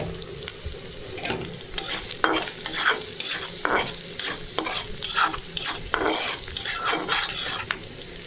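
Poa fish fries in a pan until dry, a steady sizzle broken by repeated scraping and stirring of a utensil against the metal, close and fairly loud, with no talking.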